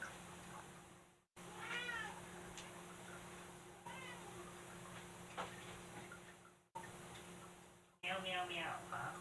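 Cat meowing several times in short bursts, fairly close, over a steady electronic hum with low background noise from a gaming stream setup.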